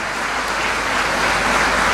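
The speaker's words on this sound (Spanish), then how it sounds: "Fuerte el aplauso para El Clavel" Loud, dense applause from a festival audience for a performer, a continuous roar of clapping that swells slightly toward the end.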